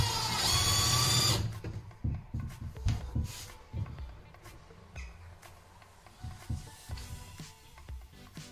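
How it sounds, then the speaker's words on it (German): A cordless screwdriver drives small screws to mount cleats on a fishing boat: a loud whirring burst at the start, then quieter clicks, knocks and handling noises nearby. "jetzt brauchen wir nur noch vier Schräubchen, Akkuschrauber und dann kommen die zwei Klampen da rein"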